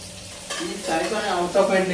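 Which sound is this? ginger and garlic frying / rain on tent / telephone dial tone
ginger and garlic frying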